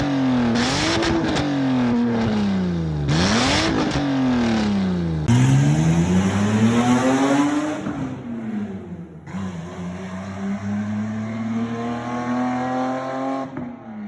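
BMW E30 with headers and open exhaust revving hard, loud and close, engine note sweeping up and down through several sharp rev climbs and drops, with crackles as it settles into a steady high drone.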